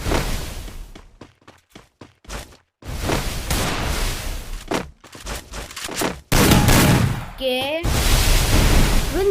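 Rapid bursts of video game gunfire from a Clash Squad Craftland match, loud sharp shots in quick clusters with brief gaps, followed by denser sustained firing and whooshing effects near the end.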